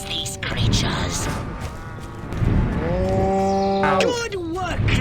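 Cattle lowing in a video game, a long drawn-out moo with rising and falling pitch, loud and close, mixed with game effects and a voice speaking over it.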